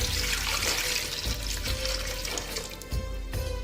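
Four glasses of water poured into a cooking pot holding strawberries, a continuous splashing, gurgling pour up close with brief breaks between glassfuls.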